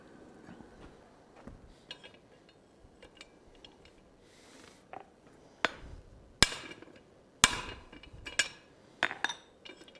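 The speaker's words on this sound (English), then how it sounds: "you'll have to hammer on it a couple times to get it, you know, rounded up" A blacksmith's hammer strikes hot iron on an anvil while forging a colonial-style trivet. Sparse, quiet taps give way to louder, sharp ringing blows that come in irregular bursts, with no voices.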